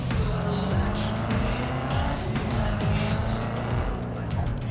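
A stolen car driven in Cyberpunk 2077, with steady engine drone, shifting revs and brief tire squeals, fairly loud and continuous with no talk over it.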